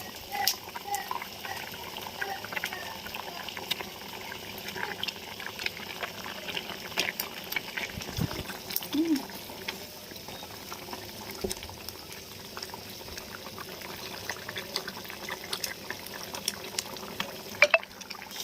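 Water boiling in a pot before eggs go in makes a soft, continuous bubbling and rolling churn. It stays fairly quiet and steady, with faint knocks now and then.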